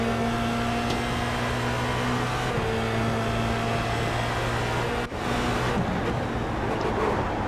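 Formula Renault race cars lapping Watkins Glen in the iRacing sim, with a steady engine drone and tonal whine that shifts pitch as cars pass, and a brief dropout near the end.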